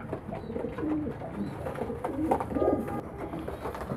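Meat pigeons raised for slaughter coo in low, throaty rolling calls, several birds overlapping in a steady close chorus with no talk.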